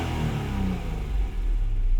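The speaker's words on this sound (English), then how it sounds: "Go ahead and rev it a couple times for you." A 1996 Acura NSX-T engine revs hard at close range, a loud throaty rumble rising and swelling in pitch across a couple of blips with no one talking.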